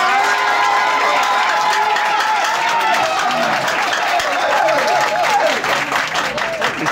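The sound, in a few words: applause for the ladies at a conference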